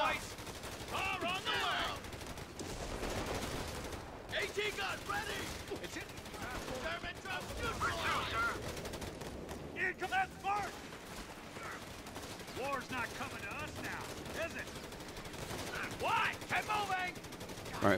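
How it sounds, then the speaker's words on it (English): Machine gun fire in Company of Heroes 3 as troops defend the beachhead at Salerno, bursts of gunfire rattling repeatedly through a busy battle mix of shots across the whole stretch. "The machine gun should do the trick there."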